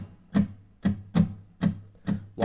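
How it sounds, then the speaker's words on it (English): Palm-muted acoustic guitar plucked in a triplet pattern, producing short percussive thumps with a dull, damped tone, evenly spaced and played alone at a moderate level. "Now I'm just going to play the triplet plucking pattern so you can get a feel for how it goes."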